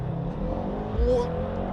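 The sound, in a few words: Mercedes-AMG GT 63 S 4MATIC+ accelerating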